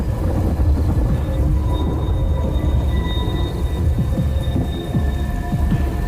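Steady heavy rain pours in a horror story setting at an old haveli, with dense crackling and deep rolling thunder-like rumble underneath, continuous and fairly loud throughout.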